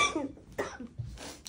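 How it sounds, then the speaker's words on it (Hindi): A few short, quiet coughs in quick succession from a person indoors in a family home, with brief throat-clearing sounds between them. "खांसी करने दो।"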